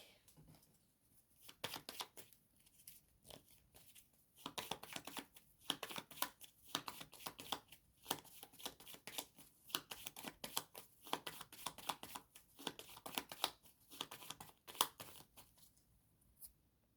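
Tarot cards being shuffled by hand, a long run of quick riffling and slapping bursts in irregular clusters, close and fairly quiet, with brief pauses between handfuls and no talking.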